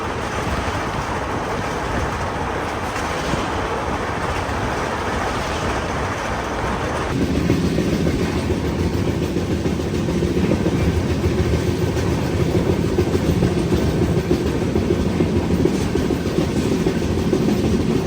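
The Grand Trunk Express rolls along Indian rails near the Godavari river, a loud continuous rumble and rattle of carriages heard from on board, with the tone shifting and deepening partway through.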